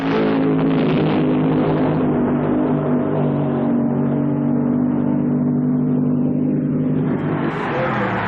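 A drag racing car accelerates hard at over 200 miles per hour with its tires breaking traction, a loud sustained engine roar with a steady low drone that shifts in pitch near the end.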